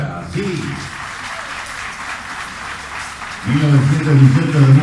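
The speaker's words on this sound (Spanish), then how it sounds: "aplauso ahora" Applause from a small gathering at a plaque unveiling for a library centenary, a moderate patter of clapping under voices, with talking rising over it toward the end.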